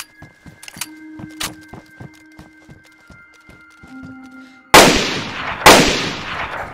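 Two loud, sharp rifle shots crack out in DayZ, each trailing into a decaying echo, following a stretch of faint clicks, rattling and low tones.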